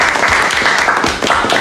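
An audience claps in steady, dense applause that continues throughout, loud and close, with a brief dip near the end.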